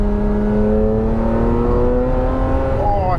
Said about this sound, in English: there's a kind of fizzing to the engine that is just so electric